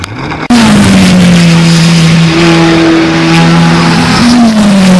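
Onboard a historic Formula Ford racing car at Brands Hatch, the engine bursts in suddenly and holds a loud, close, sustained drone, its pitch rising slightly and then dipping as the car accelerates through corners.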